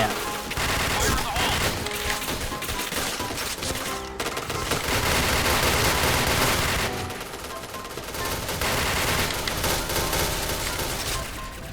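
Rapid gunfire from the Point Blank online shooter, with a Pindad rifle in play: dense, continuous bursts of automatic fire and shots run loud and close through the whole stretch, with no talk over them.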